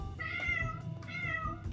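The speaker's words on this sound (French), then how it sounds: "le chat qui crie" A house cat gives two drawn-out, loud meows close by, one after another, with no talking over them.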